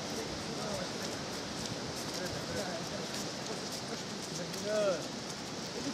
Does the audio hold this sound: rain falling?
yes